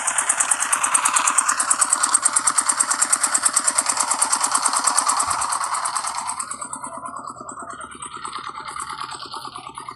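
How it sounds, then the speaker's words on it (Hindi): A nearby engine runs with a steady rapid chugging pulse, loud at first and then easing to a lower, quieter idle. "वहाँ पर जो एक इंजन चल रहा था उसका आवाज़ था"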